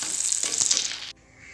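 Pieces of fish frying in hot oil give a loud, dense sizzle that crackles steadily for about a second, then drops abruptly to a faint, quiet hiss.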